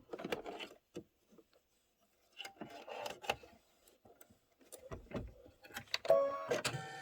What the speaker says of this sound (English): Do your satin stitch around the boots. That's going to be 5 minutes of stitching.